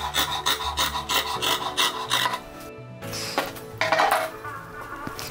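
Scissors cut through polo shirt fabric for a cuff, giving close, rhythmic rasping snips in a quick series, then a pause followed by a few scattered cuts and light clinks. No one speaks.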